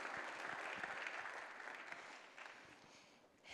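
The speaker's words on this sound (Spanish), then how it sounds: "Let's give God a round of applause." Church congregation applauding God during a bilingual sermon, a broad wash of clapping that holds loud at first, tapers toward the end, then lifts again briefly.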